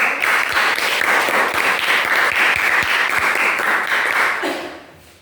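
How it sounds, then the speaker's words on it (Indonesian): Classroom applause in a teacher-training lesson, a dense patter of many hands clapping at close range that runs steadily and then fades out near the end. "tepuk tangan untuk kita semua"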